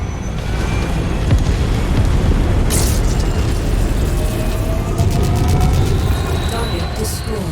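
Sustained, loud rumbling explosion from a destroyed target in the MechWarrior 5: Mercenaries mech combat game, with a deep boom rolling across the whole stretch under ongoing battle noise and a brief high crackling burst midway.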